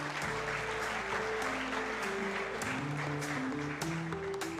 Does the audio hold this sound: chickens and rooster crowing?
no